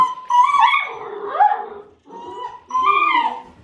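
A seven-week-old Great Dane puppy gives several high, yelping barks and whiny yips in quick bursts, close up, with a short pause between groups.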